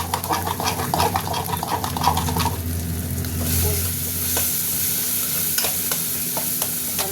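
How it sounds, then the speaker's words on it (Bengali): Tomatoes fry in a pan for a Bengali home-cooked meal, with a steady close sizzle and repeated scraping stir strokes over it and no talking. "টমেটোটা একটু ভাজা ভাজা হতে থাক।"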